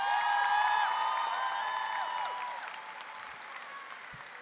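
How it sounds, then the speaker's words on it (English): A crowd at the 2019 Sam Houston High School graduation ceremony gives a sustained round of applause, strong at first and then slowly fading, with a faint tonal hum behind the clapping. "Let's give them a big round of applause."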